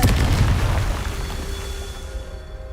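A Confringo spell blast in Hogwarts Legacy erupts as a loud booming explosion at the start, its deep rumble fading gradually over a couple of seconds with a faint high ring lingering.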